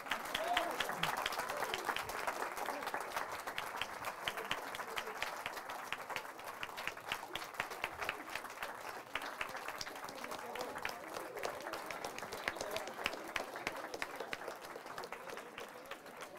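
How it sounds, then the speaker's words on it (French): An audience gives a long, even round of applause for graduates and young researchers, with dense overlapping clapping that continues at a moderate level and a few voices mixed in. "ils méritent vraiment un applaudissement pour le travail qu'ils ont fait"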